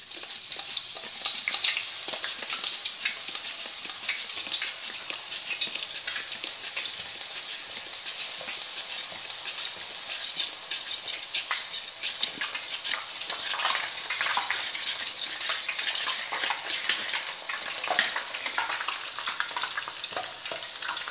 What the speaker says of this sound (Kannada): ನಾನು ಇದನ್ನು ಮೀಡಿಯಮ್ ಫ್ಲೇಮಲ್ಲಿ ಬೇಯಿಸ್ತಾ ಇದ್ದೀನಿ